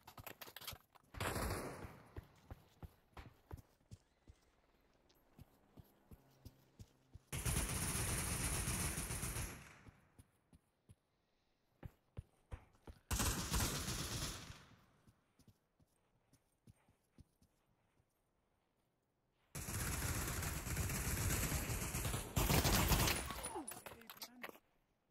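Gunfire in the VR shooter Pavlov arrives as three dense bursts of rapid, loud shots separated by quieter stretches holding scattered clicks and movement noise.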